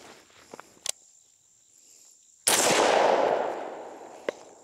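A single 5.56 rifle shot with 55-grain range ammunition fired at a steel M1 helmet, a loud sharp crack that rings out and decays over about two seconds amid outdoor insect chirping and a few small clicks.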